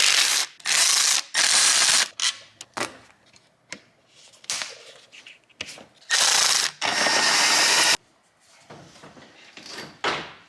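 Ratchet wrench backing out the top mount bolts on a Mazda Speed6, with loud bursts of rapid clicking separated by short pauses, close up, plus faint handling clatter in between.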